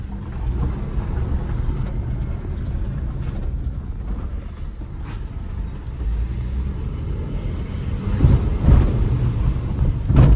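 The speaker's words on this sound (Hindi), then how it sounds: "तो चलिए इसकी टेस्ट ड्राइव ले लेते हैं।" Hyundai i20 hatchback on a test drive, steady low engine and road rumble with wind noise from inside the cabin, growing slightly louder toward the end.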